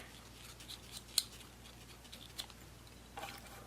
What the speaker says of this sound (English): Trim my broken thread off